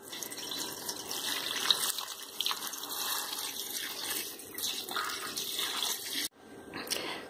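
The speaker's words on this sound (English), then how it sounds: "So next, you pour your water." Water runs in a steady stream, splashing and gurgling as it fills a pot for distilling rose water, then cuts off abruptly near the end.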